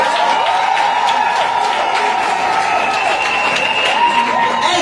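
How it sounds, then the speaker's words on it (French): A crowd at a political rally in Yopougon for candidate Simone Gbagbo applauds and cheers in a loud, continuous wash of clapping, with shrill whistle-like or chanted tones running through it. "Je pense que nous devons applaudir cette brave dame."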